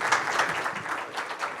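Applause from a conference audience closing a speaker session, a short, fairly loud burst of many hands clapping in a hall, uneven and lively throughout.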